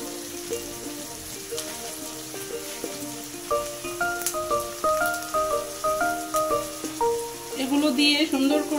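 Bay leaves, cinnamon and cardamom sizzle steadily in hot oil, a soft crackling hiss beneath melodic background music that swells toward the end.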